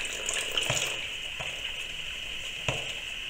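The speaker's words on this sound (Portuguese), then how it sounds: "Agora nós vamos despejar aqui." Dissolved salt solution poured from a glass, a short splashing trickle of liquid with a few soft clinks and knocks, close and fairly quiet, no talking.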